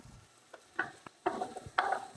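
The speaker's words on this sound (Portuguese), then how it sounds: "Estou a refogar" Ingredients sautéing in a pan for a Porto Feliz regional dish, several short bursts of sizzling as the food is stirred, close and fairly quiet, with scraping between the bursts.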